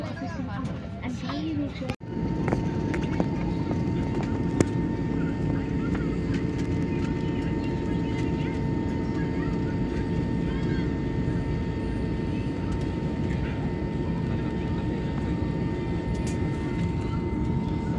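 Steady cabin drone of an airplane in flight on a trip to Goa, a continuous low roar filling the whole stretch with a brief thump early on and faint voices beneath.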